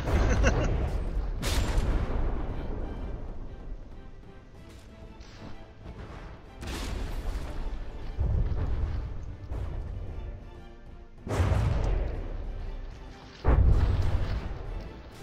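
Warship shells slam into a battleship hull in the From the Depths naval combat game, several loud booming impacts and crashes arriving in irregular bursts over a rumbling low background.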